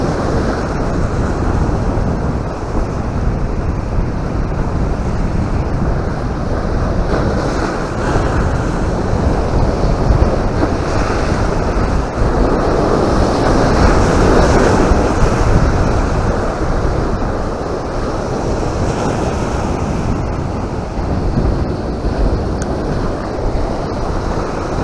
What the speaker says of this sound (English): That's some decent ass waves, man.